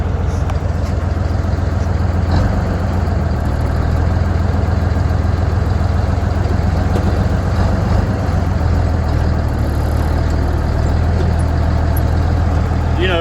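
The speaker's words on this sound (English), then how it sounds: "it's such a big strain on this little truck" Small truck engine laboring hard while towing, a loud, constant low drone and rumble that holds steady throughout at close range.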